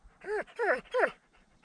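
A dog pants close by, three quick breathy huffs with a whimpering tone in quick succession, then quiet.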